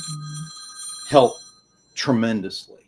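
A telephone bell rings briefly, a short steady tone at the start, before a voice comes in and talk carries on over a quiet room.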